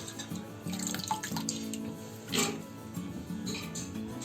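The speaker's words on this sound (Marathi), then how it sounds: "आता आपल्याला चण्यामध्ये आहे ना चण्यापेक्षा भरपूर पाणी ओतायचं आहे" Water is poured over dried red chickpeas for a village-style curry, making a close, steady splashing and dripping over a few seconds with some faint background hum.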